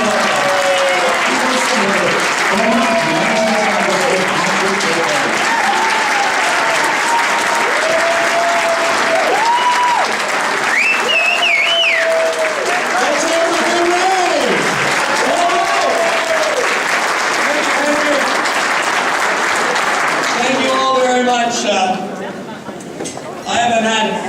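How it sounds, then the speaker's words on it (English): Convention audience applauding as speaker Patrick Kennedy is welcomed at the NAMI New York Convention, a loud, sustained roar of clapping with cheers and whoops, easing off near the end. "please help me with a warm round of applause"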